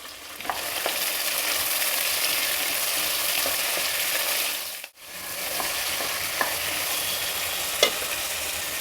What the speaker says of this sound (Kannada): ಕ್ಯಾಪ್ಸಿಕಮ್ನ ಎಣ್ಣೆನಲ್ಲಿ ಫ್ರೈ ಮಾಡ್ತಾ ಇರೋದು